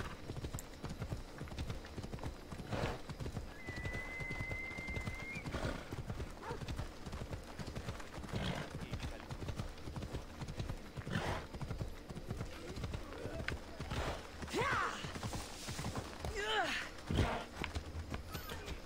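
Horse hooves clip-clopping steadily with a couple of whinnies and neighs in the Assassin's Creed Odyssey video game, set against a busy layer of game ambience and a voice talking throughout.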